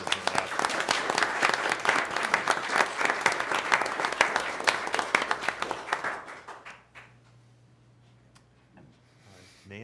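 A roomful of people applaud at a town board of commissioners meeting, a lively burst of clapping for about six seconds that then dies away into a quiet room hum.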